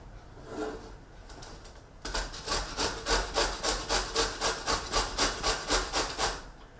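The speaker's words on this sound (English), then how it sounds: "Another option to cutting carrots is to use a grater and to grate the rest of them." Carrots are rubbed against a sharp grater in a steady, rhythmic run of about a dozen close rasping strokes after a brief quieter start, with no voices.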